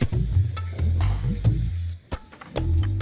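Cashews dropped into hot ghee and oil in a pan, giving a steady close sizzle with bursts of crackling and stirring scrapes, briefly dipping quiet near the end before frying resumes.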